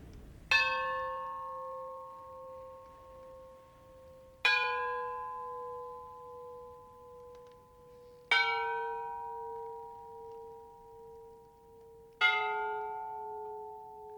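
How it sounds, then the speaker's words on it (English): A ship's bell strikes four times, each clear ringing stroke spaced about four seconds apart and left to decay slowly into silence, loud and alone. "Four bells rang."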